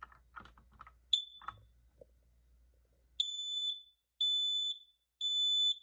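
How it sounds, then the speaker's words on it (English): A Kidde KN-COSM-B fourth-generation hardwired smoke and carbon monoxide alarm from 2007 gives three loud, steady high-pitched beeps, each about half a second, evenly spaced, after some quiet handling noise. "over here is a Kidde KN-COSM-B 4th generation model from 2007"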